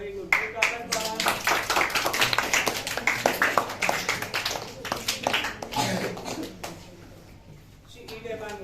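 Classroom students applaud a classmate with quick, dense clapping for several seconds that tapers off into quiet, with voices in the room.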